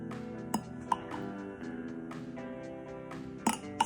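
Spoon clinks sharply against a dish while chamoy is spooned over stuffed poblano peppers, several bright taps spaced irregularly over quiet kitchen background, close and clear.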